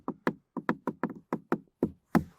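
Knuckles rap on the hard plastic door trim of a 2026 Jeep Commander, about nine quick, close, hollow knocks in an uneven rhythm, with no talking over them.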